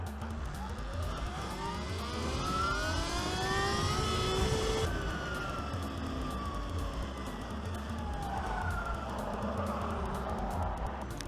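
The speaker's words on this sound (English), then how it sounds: "Just saw a moto cop fly by." A police motorcycle roars past on a highway, a rising then falling engine whine sweeping by close, with steady road and wind noise throughout.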